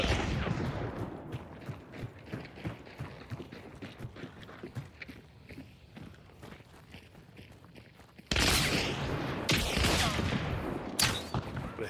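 Rapid gunshots ring out in a multiplayer shooter match as a dense run of sharp reports. Later the shots grow louder and wider, with heavy blasts near the end.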